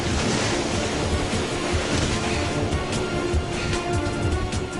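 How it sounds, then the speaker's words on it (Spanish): A tidal bore of sea water surges into a bay and crashes against the shore, tearing away earth as it goes; a loud, continuous roar of churning surf with wind buffeting throughout, no voices. "La avalancha se estrella contra las orillas y a su paso arranca tierra"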